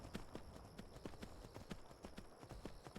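Horse hooves clip-clop at a steady riding pace in the Skyrim video game at night, a regular run of close, faint thuds with a soft whispered voice beneath.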